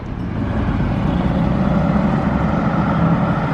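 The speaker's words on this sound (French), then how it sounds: "V8 Vantage, ça fait vraiment le bruit d'une AMG GT" Aston Martin V8 Vantage engine rumbling steadily at close range outdoors at the Place du Casino in Monaco, a deep continuous low drone with no talk over it.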